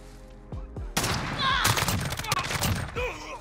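Rapid gunfire from an M13 rifle in the video game Modern Warfare, with a few isolated shots and then a dense, loud burst of automatic fire lasting a couple of seconds, with faint voices underneath.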